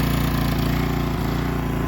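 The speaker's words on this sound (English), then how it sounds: "Just a generally lovely little generator." A 1965 Honda E300 generator running at a steady, loud, close idle with an even, rapid mechanical chug and no pauses.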